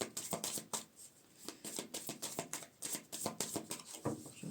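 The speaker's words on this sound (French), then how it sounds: "Parce que je les tire, les cartes." Tarot cards being shuffled by hand, close and quiet, a quick series of crisp riffling bursts and soft slaps in an uneven rhythm.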